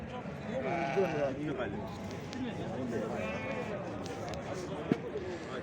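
Lambs bleat at a small-livestock market in Çorum, with several wavering bleats rising over steady nearby conversation and general market bustle.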